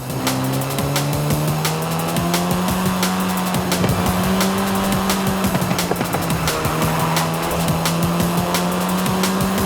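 A 2012-era seventh-generation Volkswagen Golf R in Forza Horizon 5 drives hard with a steady droning engine note rising and falling through gear changes, accompanied by tire squeal and rapid road ticks, no talking.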